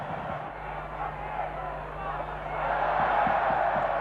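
Stadium crowd at a 1980 Queensland versus New South Wales State of Origin rugby league match, a steady broadband roar that swells louder toward the end, with a voice talking over it.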